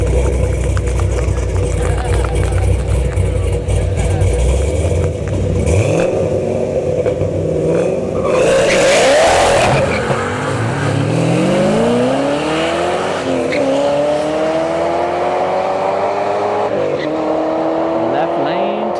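Drag race cars launching at a dragstrip test-and-tune, with a ZL1 Camaro spinning its tires off the line: loud revving engines that build and roar past, tire squeal mixed in, the sound fading as the cars pull away.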